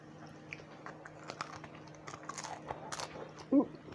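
Someone bites into pieces of crispy fried whiting and chews them, with small crunchy sounds building to one louder, close crunch near the end.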